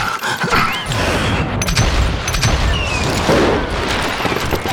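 Gunfire in the Western shooter game Call of Juarez: Gunslinger, a dense run of loud overlapping shots and booms rattling steadily throughout with no speech.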